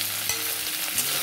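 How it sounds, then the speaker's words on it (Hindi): Onion and tomato fry in oil with a bay leaf for a Kolkata street-style egg curry, giving a brief, steady close sizzle with a faint stir scrape. "देन हम लोग इसको फ्राई करेंगे।"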